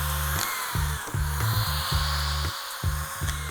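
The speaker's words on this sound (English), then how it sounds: "we got our handy dandy stand-up screw gun to assist us in the speed of laying the boards" Stand-up screw gun driving deck screws into decking boards, a loud buzzing whir in repeated short bursts with brief gaps between each screw, close by with no talk.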